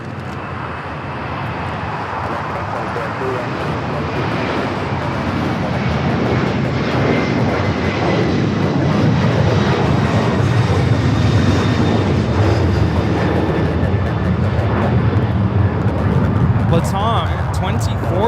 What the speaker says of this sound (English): 2479 taking off to Lima, Peru on the 767-300ER